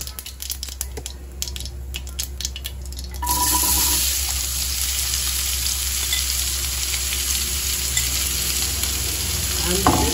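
Finely chopped raw mango sizzles and fries steadily in oil with mustard and cumin seeds, with stirring scrapes early on, then a louder continuous sizzle takes over after a few seconds, close and without talk.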